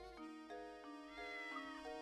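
Cat meowing in Professor Layton and the Curious Village, a short sequence of clear, close meow-like tones over a steady game music backdrop, no talk.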